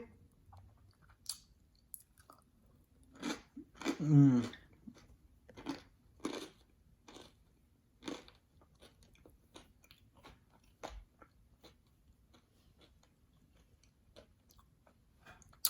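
Someone chews crunchy air-fryer boneless buffalo wings close up, producing a series of crisp, irregular bites and crunches separated by short quiet gaps.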